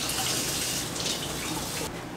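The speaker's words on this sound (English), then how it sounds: "So instead I just use my bottle brush, and my water gets extremely hot and I just wash them like this." Canning jars scrubbed with a bottle brush under hot running water in a kitchen sink, a steady rushing gush of tap water with soft splashing textures, fairly close and continuous.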